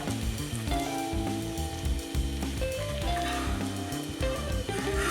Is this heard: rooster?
no